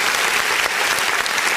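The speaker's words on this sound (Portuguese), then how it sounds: "vamos aplaudir o Senhor mais uma vez" A church congregation applauds during a worship service, a steady, full wash of many hands clapping at once, loud and continuous throughout.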